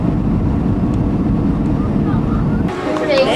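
Passenger airplane in flight heard from inside the cabin, a steady loud low roar of engines filling the whole clip, with a brief shift of cabin sound near the end.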